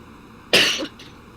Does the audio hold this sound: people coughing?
yes